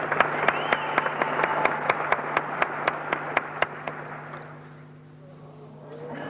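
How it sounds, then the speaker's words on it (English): Crowd at the 1980 Mr. Olympia bodybuilding contest claps in steady rhythmic beats while screaming and yelling encouragement for Mike Mentzer, the sharp regular claps fading out after a few seconds into a softer murmur. "The ever-popular Mike Mentzer once again had his own cheer squad in the audience, screaming for him, yelling encouragement"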